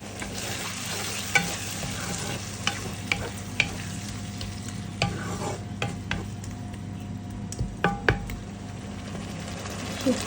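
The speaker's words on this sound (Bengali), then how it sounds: "এটা ভালো করে কষতে থাকুক।" Garlic and tomato sautéing in a pan for a dried fish curry, a steady low sizzle with scattered spatula clicks and scrapes, close up, while a voice talks faintly in places.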